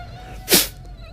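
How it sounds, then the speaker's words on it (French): A mosquito sound effect in a dramatized story: a thin, steady buzzing whine holds throughout, broken midway by a short loud rushing burst before the faint hum carries on alone. "Dieu lui envoya un misérable petit moustique."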